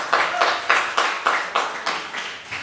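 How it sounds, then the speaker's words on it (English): Audience clapping in steady unison at a community rally, with sharp, evenly spaced claps about twice per second, loud and close, with no voices over it. "Let's give another round of applause"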